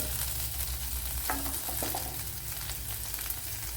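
Food splutters and crackles loudly in a steel pan while frying, with constant close sizzling and a few sharper pops and a brief stir partway through, no talking.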